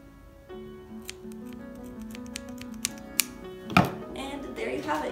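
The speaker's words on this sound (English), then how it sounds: "Get my scissors." Scissors snip the thread on a handmade teddy bear after a double knot, giving a few soft, close clicks and cuts against a quiet background, followed by a louder rustle near the end.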